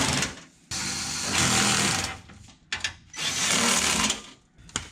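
A power tool tightens bolts on carbon fiber aero parts fitted to a GT350, in about three loud whirring bursts separated by brief pauses, with no voices.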